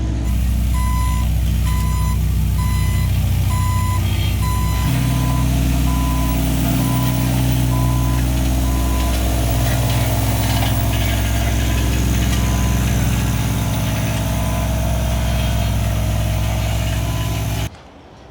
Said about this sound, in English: The roller has done a fine job. All nicely compacted.